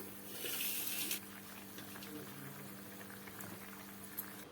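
Steady bubbling of mutton kola urundai gravy at a rolling boil in a pot, with a brief splash of liquid early on and faint voices underneath.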